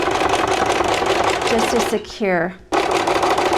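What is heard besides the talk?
sewing machine stitching a seam on a face mask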